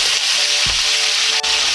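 Steady bright sizzle of potatoes frying in hot oil, continuous and close, with a couple of soft low thumps and no talking.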